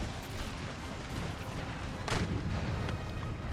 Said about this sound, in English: Let's go ahead and throw grenades again.